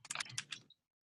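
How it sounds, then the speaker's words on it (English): Quick burst of typing on a computer keyboard, several close, crisp key clicks in rapid succession lasting under a second, then silence. "I'm just typing as you're talking here"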